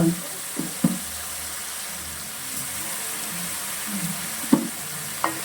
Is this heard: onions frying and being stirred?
yes